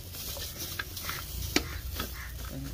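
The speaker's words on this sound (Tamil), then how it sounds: "அதனால் அப்படியே லைட்டாக வறுத்துக்கலாம்." Bitter gourd frying lightly in groundnut oil in a pan, giving a soft continuous sizzle broken by scattered stirring scrapes and small clicks, close and fairly quiet.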